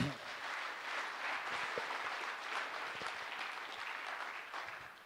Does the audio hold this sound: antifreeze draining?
no